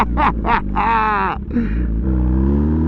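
An MV Agusta Brutale 1000RR fitted with a full titanium Arrow exhaust accelerating, a loud close-up engine roar climbing through revs in rising bursts, then settling into a deep rumbling idle.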